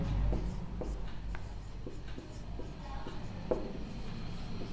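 Writing out a maths solution for a Class 10 surface area and volume exercise, steady soft scratching strokes of a pen or marker at a light uneven pace, close and quiet with no talk.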